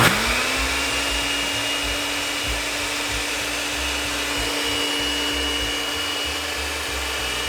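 A steady, high-pitched motor whir from a JVR VAC 100 blender runs continuously, loud and close, spinning without pause.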